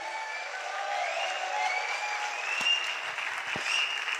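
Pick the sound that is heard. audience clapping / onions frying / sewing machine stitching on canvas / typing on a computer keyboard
audience clapping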